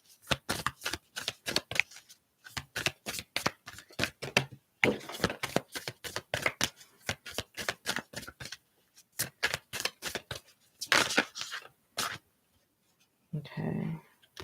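Tarot cards shuffled by hand, rapid crisp riffling and slapping bursts in quick irregular runs with brief pauses, close and fairly quiet, a voice briefly audible near the end.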